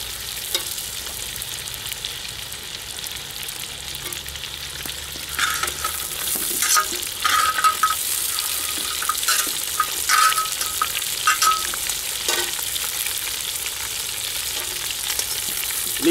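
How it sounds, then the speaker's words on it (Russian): Meat and bones fry in a cauldron for pilaf, a steady close hiss that grows busier halfway through as stirring adds repeated scraping and clinks against the pot; no voices. "Лишний жар из-под казана я уберу, все это перемешиваю"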